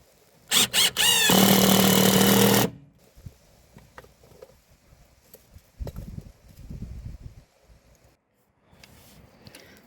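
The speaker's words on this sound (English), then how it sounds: "So that is the smaller board Eric is screwing in right now to help the other front board that we're going to be screwing the metal into" A screw is driven into a board to brace deck skirting, with one loud whirring burst of a driver lasting about two seconds, followed by quieter knocks and handling sounds at a distance.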